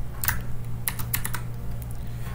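Rapid keystrokes clatter on a computer keyboard while a terminal command is entered, a quick run of crisp, close clicks over a faint steady hum.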